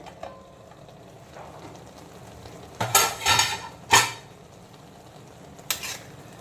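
Rice for Basanti pulao being stirred in a pot after the lid comes off: a few short bursts of scraping and clattering utensil strokes over a soft, quiet background, with no speech.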